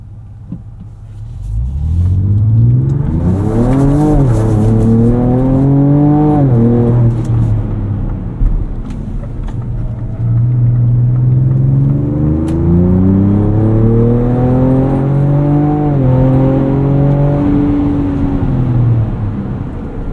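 A tuned 2024 Ford Ranger Raptor with a Ford Performance tune drones loudly from inside the cab while driving, rising in pitch through two long acceleration pulls with gear changes and then easing off, with no talking.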